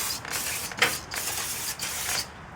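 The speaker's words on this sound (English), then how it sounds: "Alright, spray these things down." Several short bursts of aerosol cleaner hiss onto new rear brake parts for a 2006 Honda Element, each spray lasting a fraction of a second to about half a second, close up and fairly quiet.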